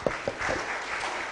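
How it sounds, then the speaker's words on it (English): Brief applause from a political gathering's audience, a couple of sharp claps at the start before a steady, moderate patter of clapping hands fills the short moment. "You can applaud them."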